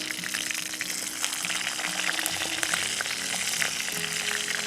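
Onion hits hot coconut oil and crackles in a continuous bright sizzle, close and fairly loud, with faint background tones underneath and no talking.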